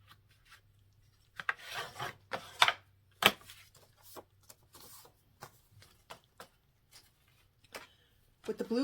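Blue paper card being folded in half by hand, a series of soft crisp rubs and creases at close range, with sharper scraping swipes as the fold is pressed flat.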